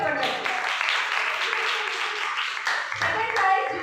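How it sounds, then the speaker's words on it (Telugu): Applause from a church Vacation Bible School crowd for a prize winner in a memory verse competition: a dense, sustained patter of many hands clapping, with voices mixed in near the end. "గట్టి చప్పట్లు కొట్టాలి"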